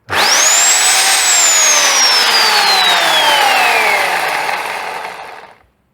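An electric chainsaw whines loudly at full speed, then its motor pitch slowly drops as it coasts down and stops.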